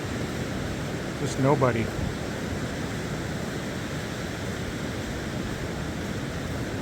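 Surf rolls onto a sandy beach with dunes and driftwood at Bullards Beach State Park as a steady, wind-mixed wash, while a voice speaks briefly over it.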